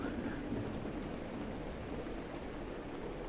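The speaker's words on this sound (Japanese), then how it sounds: "雷が鳴ってる。" Steady rain with a low rumble of thunder inside a horror video game, a continuous soft wash of rainfall that stays even and fairly quiet throughout.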